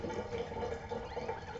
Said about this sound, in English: Give your hands a quick rinse.